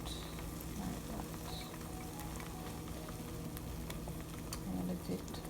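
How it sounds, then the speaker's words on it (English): Beaten egg for an omelette fries in hot oil in a pan over a medium-low flame, giving a faint, steady crackling sizzle with a low hum underneath. "And let it fry on medium. Medium to low flame."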